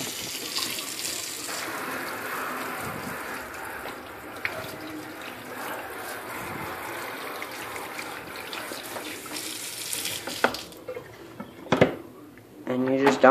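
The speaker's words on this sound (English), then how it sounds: "just take your little sprayer wand and rinse around the entire perimeter" Water from a sink sprayer wand rinses around a shop vac water filter, a steady close hiss and splash that runs under talk before ending in a few clatters and louder splashes.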